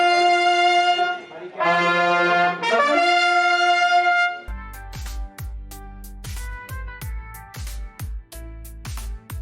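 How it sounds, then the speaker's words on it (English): Bright trumpet tones play a short sustained phrase of held notes, followed by a rhythmic passage of punchy, repeated bass-heavy hits. "It's a trumpet."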